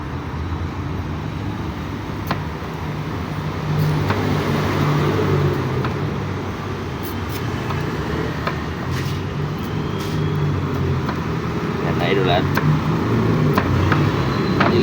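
Noisy road traffic rolls past close by in a steady, dense wash of engine and tyre rumble, with brief clanks and taps over it and no clear voices.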